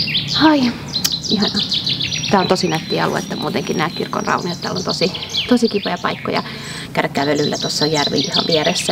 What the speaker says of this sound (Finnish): kuuletteko miten ihanasti linnut laulaa